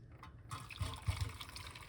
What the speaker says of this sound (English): Pour it off like this.